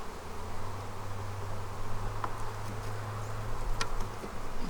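Honey bees buzzing inside a hive with supers, a continuous low droning hum at moderate level, a few faint clicks on top, no talk.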